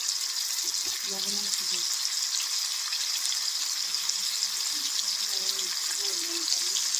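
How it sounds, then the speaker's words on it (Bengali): Potato pieces with salt and turmeric fry in oil until reddened, producing a constant bright hiss with faint voices murmuring underneath. "মা ওদিকে আলুটাকে লাল লাল করে ভেজে নিচ্ছে"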